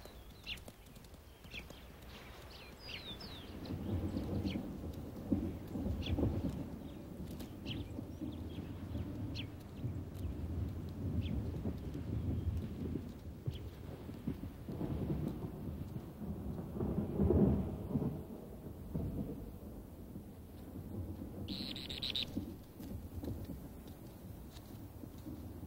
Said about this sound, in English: Distant sounds hint at approaching rain, but that's only nature's tease.